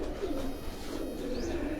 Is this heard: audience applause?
no